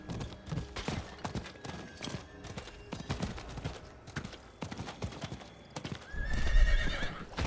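A horse gallops in the Diablo IV video game with fast, rhythmic hoofbeats up close, then gives a loud whinny near the end.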